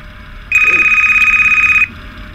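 A video game telephone rings once, a single loud, bright electronic trill lasting just over a second, heard alone.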